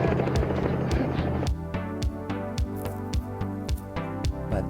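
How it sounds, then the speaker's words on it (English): A helicopter thuds overhead, its rotor beating in a loud, regular chopping rhythm with a steady engine whine underneath. "this one started off with a chopper above"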